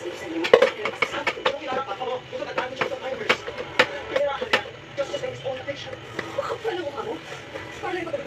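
Dishes, pots and cutlery being soaped and scrubbed by hand, giving a steady run of close metallic clinks, clatters and scrapes with a voice talking faintly underneath.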